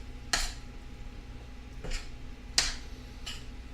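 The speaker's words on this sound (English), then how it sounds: "Just start stirring it with the butter on there." Butter being stirred into food in a pot, four sharp spoon knocks and scrapes against the pot spaced about a second or more apart over a quiet, steady background.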